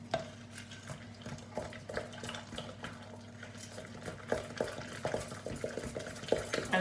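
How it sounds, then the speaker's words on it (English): Egg being stirred into a soft butter and sugar mixture in a mixing bowl for baking, steady scraping and tapping of a spoon against the bowl with a low kitchen hum behind. "So tip your egg into the bowl, keep stirring."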